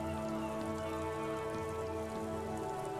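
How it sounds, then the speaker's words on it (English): Steady rain falls and drips across a city in the video game Disco Elysium, a continuous dense patter with a low ambient musical bed underneath and no voices. "All around you, rain falls on the great city of Revachol. Rain drips from the eaves and floods the gutters,"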